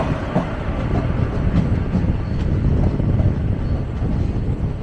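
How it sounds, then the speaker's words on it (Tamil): A train rolls by with a dense, steady rumble and faint wheel clatter, heard close from a nearby moving train on a rail route toward Cuddalore, continuous for the whole stretch without speech. "ஒரு ட்ரெயின் இருக்குது, இத்தனை பேர் தெரியுது ஃப்ரண்ட்டில்."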